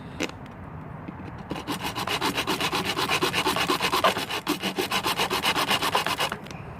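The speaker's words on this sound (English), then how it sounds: "Do you guys want to lecture me about using a fucking hacksaw?" Hacksaw cutting through metal handle pins for a kukri knife, a close, steady run of rhythmic back-and-forth rasping strokes that starts after a brief pause and continues for about five seconds with no talking.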